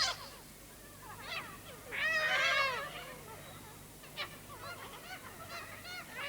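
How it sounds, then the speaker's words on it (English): Cockatoos give harsh, screeching calls in Australian bushland, several squawks at varying distances with one long loud burst midway and shorter cries scattered around it. "Cockatoos, cockies, as Australian as, well, galahs."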